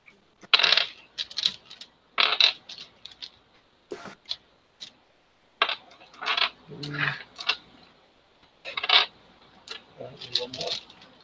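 Dice clatter and roll across a tabletop during a tabletop role-playing game, with repeated bursts of rattling clicks spread through the stretch, some louder than others, and a voice briefly speaking between them.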